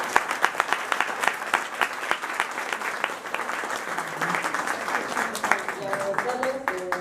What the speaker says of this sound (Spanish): un aplauso para los profesionales.